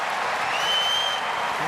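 Applause from a US Open tennis crowd at a 2023 third-round match, a steady dense wash of clapping through the short stretch, broad and sustained with a few high tones riding over it.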